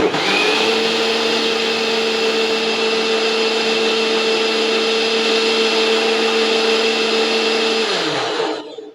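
A mixer grinder grinds spice paste with small onions for a fish curry, a loud, steady motor whine that holds for about eight seconds before spinning down near the end.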